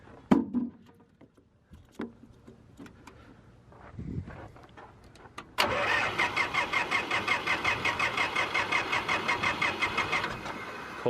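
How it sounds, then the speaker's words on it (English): A car engine cold-starts after motor work: scattered clicks and clunks, then a cranking starter catches into a loud, pulsing, lumpy idle that runs steadily to the end. "I'll even fire it up for you guys real quick"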